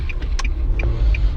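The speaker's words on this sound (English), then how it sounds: "I'm driving right now." A car being driven, heard from inside the cabin: low steady engine hum and road rumble, with a few faint higher clicks and squeaks above it.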